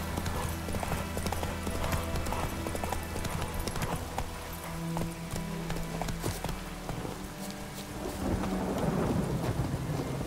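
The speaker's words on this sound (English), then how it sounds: "It's pouring like this on the Baltic." Steady heavy rain pours in The Witcher 3 video game, with low thunder rumbling and hooves clopping beneath a dense continuous hiss, loud and close throughout.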